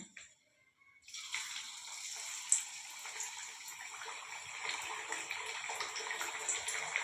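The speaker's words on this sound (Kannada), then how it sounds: "ಬನ್ನಿ ಎಣ್ಣೆ ಹಾಕೋಣ" Oil pouring into a frying pan for Maddur vada, a steady liquid pour with a soft hiss starting after a second of near silence and running continuously at moderate level to the end.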